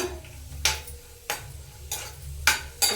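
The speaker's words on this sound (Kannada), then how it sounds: "ದ್ರಾಕ್ಷಿ ಎಲ್ಲ ಸ್ವಲ್ಪ ದಪ್ಪ ಆಗುತ್ತೆ, ಅಲ್ಲಿವರೆಗೂ ಫ್ರೈ ಮಾಡ್ಕೊಬೇಕು." Raisins, cashews and almonds fry in oil for carrot halwa, with a low sizzle under sharp spoon scrapes and clinks against the pan that come about every half second, close and alone.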